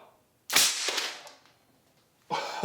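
A homemade cannon fires a toothbrush: a single sharp, loud bang with a brief ringing tail, followed moments later by another sudden burst of noise.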